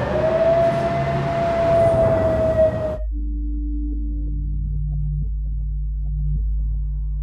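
A loud, steady siren tone wails for about three seconds, then cuts off abruptly, leaving a low, constant engine-like hum.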